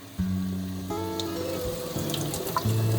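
Water running steadily while houseplants are watered indoors, a continuous close splashing flow whose pitch rises as the container fills, with small drips and clinks over it.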